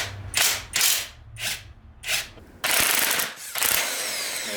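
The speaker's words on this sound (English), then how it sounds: "It's so dirty that the socket doesn't want to stay on" A ratchet socket wrench works on dirty intake manifold bolts on a Mazdaspeed engine during teardown. Several loud, close bursts of rapid ratcheting clicks come with short pauses between them, and one longer run ends the clip.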